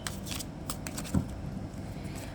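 Tarot cards are shuffled by hand in a final shuffle. It comes through as a soft, faint papery riffling and rustle with a few light flicks and one small thump midway.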